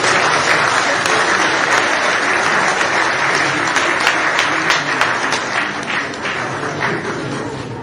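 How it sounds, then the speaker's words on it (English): Loud, sustained applause from an audience at an interactive session with Nigerians in Germany, dense clapping that continues evenly and tapers slightly toward the end. "Can we clap for that, please?"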